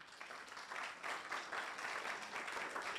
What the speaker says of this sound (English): another applause for them